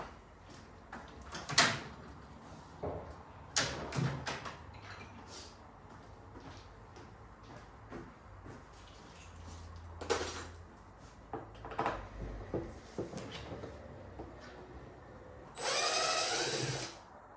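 Screws being backed out of the interior door panel speaker mounts on a Range Rover Classic with a screwdriver: scattered clicks, scrapes and knocks, a few sharper handling bangs and a brief whirring burst near the end, close and with no voices.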